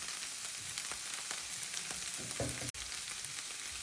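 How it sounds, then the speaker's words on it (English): Ground beef and cabbage fry with tomato paste stirred in, making a steady, fairly quiet sizzle with occasional soft stirring scrapes and one abrupt cutout. "Mix everything together and let it cook for a minute so the tomato flavor blends in"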